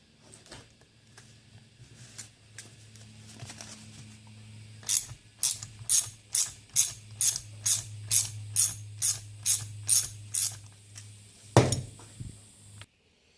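A ratchet loosens bolts on a mechanical fuel pump, giving a close run of about a dozen evenly spaced clicks, preceded by quieter handling noises and ending with a sharper metallic clank.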